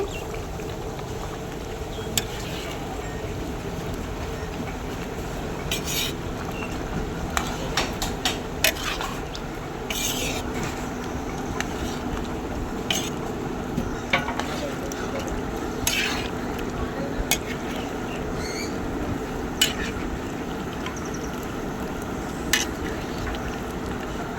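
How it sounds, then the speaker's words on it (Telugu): Ginger garlic paste stirred in a pan for chicken roast gives a steady sizzle, with repeated metallic scrapes and taps of a spoon against the pan at irregular intervals. "అల్లం వెల్లుల్లి పేస్ట్ వేసాకైతే మొత్తం ఒకసారి తిప్పుతూ ఉండాలి"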